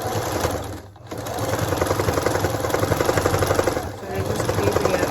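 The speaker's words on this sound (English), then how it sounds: "this time with the straight stitch, I'm going to be pushing the fabric on both sides" A sewing machine straight-stitches through old towel fabric, a steady fast mechanical whir with rapid needle chatter, briefly pausing twice, under a talking voice.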